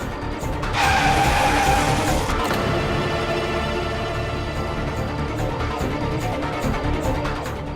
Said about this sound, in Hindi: ओमी, गाड़ी जरा साइड में रोको